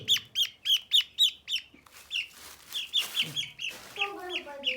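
Brahma chickens cluck in quick repeated bursts, a rooster-like call and chirps mixed in, close and fairly loud with a steady rhythm.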